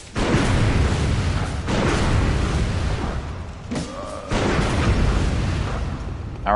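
A missile attack spell in Bloodborne bursts in a string of heavy booming explosions, loud and dense throughout, with a brief dip midway before the rumbling blasts resume.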